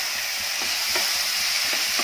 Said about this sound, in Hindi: और ये फ्रोज़न मटर भी डाल देंगे, इनको भी स्टर करेंगे अच्छे से।